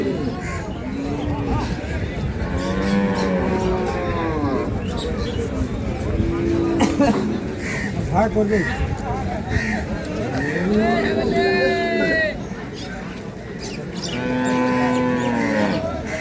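A Jersey dairy cow at a cattle market moos repeatedly with long, drawn-out lowing calls, close by, while several people talk in the background.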